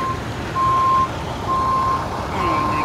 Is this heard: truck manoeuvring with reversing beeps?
yes